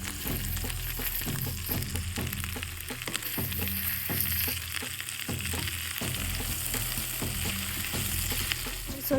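Gobi manchurian sizzles and fries in a hot pan while being stirred, a steady loud hiss with repeated scraping and knocking strokes of the spoon throughout.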